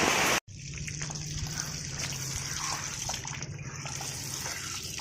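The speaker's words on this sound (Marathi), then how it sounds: "कंटिन्यू पाणी जाते ना" Water runs continuously in a steady, moderate gush with light splashing, close by and uninterrupted after a brief cut near the start.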